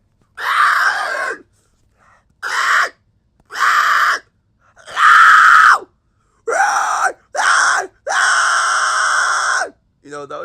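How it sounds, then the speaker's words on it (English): A person lets out a series of loud, drawn-out screams and groans in separate bursts of a second or two each, with brief silences between them, close to the microphone. "I could do that, right? Just like scream randomly like that."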